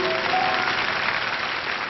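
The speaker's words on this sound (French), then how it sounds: "On applaudit très fort cette jeune fille" Studio audience applauding loudly for a young woman on a late-1990s French TV show, a dense, even wash of clapping throughout.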